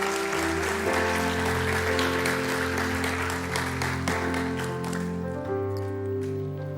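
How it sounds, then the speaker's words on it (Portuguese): A church congregation applauding, a dense, loud, sustained wash of clapping heard up close, with music or organ tones sounding underneath throughout. "Dê o melhor aplauso que você pode dar a Deus."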